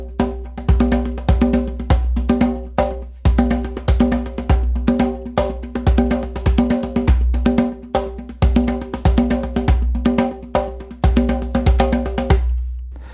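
Recorded rhythmic pattern tied to self-stimulatory behavior in autism plays as a loud, steady, repeating percussive beat over sustained low tones, with regular pulses throughout and no speech.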